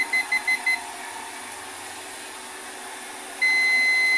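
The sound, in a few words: multimeter continuity buzzer beeping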